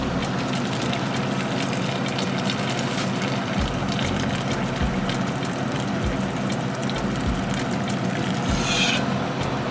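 Boiling water from a kettle poured steadily into a pot of curry stew turkey wings, a continuous close gushing splash with occasional bumps and clinks, no talk.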